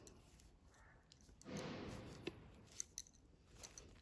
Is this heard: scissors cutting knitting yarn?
yes